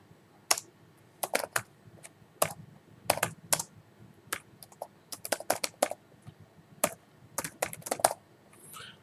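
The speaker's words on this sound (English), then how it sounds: "I'm going to type single quote 3 times and I'm going to write hello" Someone types on a computer keyboard, entering Python code. Crisp key clicks come in irregular bursts and quick runs, with short pauses between them, close and clear with no talking.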